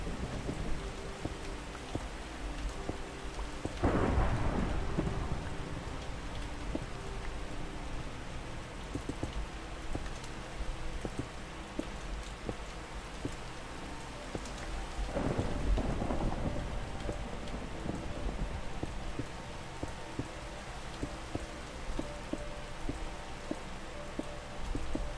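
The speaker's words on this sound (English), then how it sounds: "There's something about nice, peaceful, rainy nights that are just nostalgic" Steady rain pours at night in a video game, with two deep rumbling thunder claps breaking through the constant hiss, no voices.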